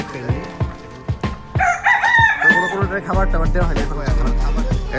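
A native desi rooster crows loudly and close in a drawn-out call, surrounded by clucking and scattered noises from confined desi poultry, with a low hum joining partway through.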